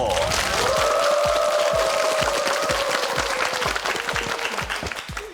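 Studio audience on a Korean TV quiz show applauds loudly and steadily, with a sustained musical tone running underneath and dense clapping that slowly thins toward the end.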